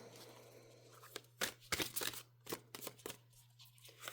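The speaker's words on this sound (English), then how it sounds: "One more shuffle." Tarot cards being shuffled by hand, a quick series of crisp riffling and slapping bursts, close and fairly quiet, over a faint steady hum.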